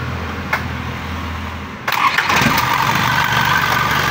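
An Isuzu ELF truck's 4HG1 diesel engine cranks briefly and catches, then settles into a loud, steady idle rumble close by.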